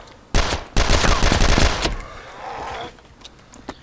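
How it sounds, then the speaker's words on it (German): Rapid bursts of gunfire from the video game DayZ, set in Chernarus: a loud, dense volley of automatic shots lasting about a second and a half, followed by fading echoes and a few sparse, quieter shots. "Die Schüsse hat man gehört."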